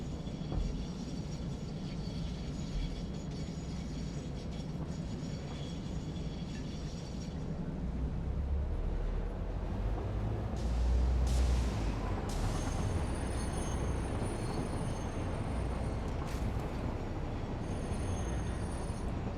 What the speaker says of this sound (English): riding trains is always fun in this game